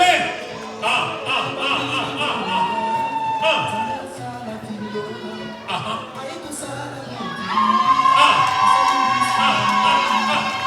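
Guests at a Congolese wedding reception in Dallas cheer and whoop with joyful cries, a loud, lively crowd with high shouts and excited voices that swell again toward the end.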